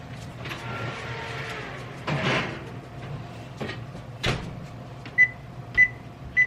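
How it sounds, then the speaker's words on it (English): A cake pan slides into a home oven with a soft scrape and rack rattle, then a clunk as the oven door shuts, followed by a few sharp knocks and clicks in a quiet kitchen. "Alright, I'll put it in the oven."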